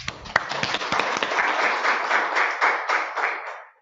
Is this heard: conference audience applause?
yes